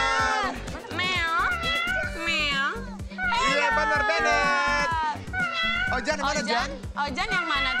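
A cat meows repeatedly as the sound in a children's guessing game, drawn-out wavering cries mixed with children talking over it.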